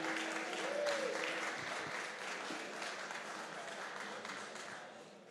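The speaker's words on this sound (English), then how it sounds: "A roaring round of applause for Platemate." Applause from an audience at an entrepreneurship innovation challenge final as team Platemate is introduced, a broad crowd clap that swells briefly and gradually fades, with a voice speaking faintly over it.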